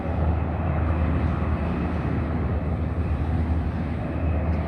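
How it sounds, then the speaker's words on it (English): Steady, rumbling low engine and rotor noise from helicopters landing near San Diego harbor, a continuous broadband drone that holds level throughout with no talking. "here are the helicopters landing."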